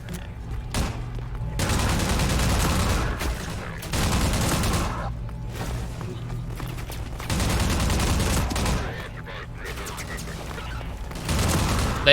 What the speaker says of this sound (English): We're gonna use the emplacement machine gun.